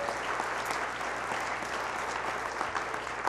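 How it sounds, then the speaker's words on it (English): A church congregation applauding during a morning service, a dense, even wash of clapping held steady for a few seconds with no voices over it. "Let's give them a big round of applause this morning."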